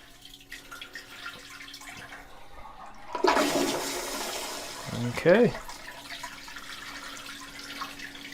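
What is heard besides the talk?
EPLO E18 Pro smart toilet full test flush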